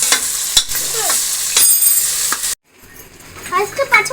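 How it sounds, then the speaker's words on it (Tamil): Ginger garlic paste and green chillies sautéing in a pan for village-style country chicken biryani, a steady sizzle broken by stirring clinks, briefly cutting out before resuming with light scraping. "இஞ்சி பூண்டு பேஸ்ட்லாம் போட்டு வதங்கிச்சு"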